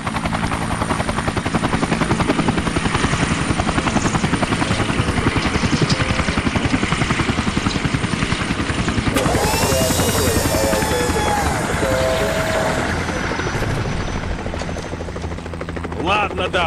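Helicopter in the Vietnam War video game Shellshock: Nam '67, a loud steady rotor thump and engine drone running throughout, with a voice and other game noises layered over it partway through.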